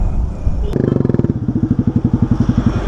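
Modified Yamaha R15 V3 motorcycle with an aftermarket exhaust, close by, revving from a sharp blip into a rapid pulsing burble that holds steady and loud to the end.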